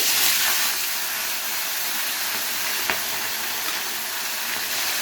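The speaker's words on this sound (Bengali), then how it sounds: "এবারে এক এক করে মাছগুলোকে ভেজে নেব।" Bhola fish is fried in smoking-hot oil, a loud, continuous sizzle and hiss with one faint tap partway through.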